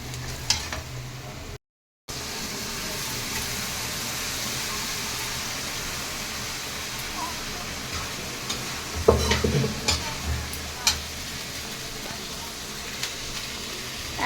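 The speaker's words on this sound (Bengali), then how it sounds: "এখন এটাকে আমি খুব ভালো করে ভেজে, এই যে জলটা আছে, এই জলটা আমি শুকিয়ে নেব" Chickpeas fry and get stirred through a cooked-down spice masala at home, a steady sizzling hiss with scraping spoon strokes and a short silent gap, louder clatters near the end.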